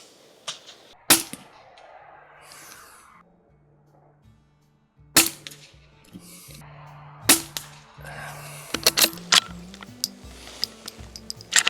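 Rifle shots fired at rabbits ring out as a few sharp, separate cracks at moderate distance, with quiet outdoor background and faint rustling between them.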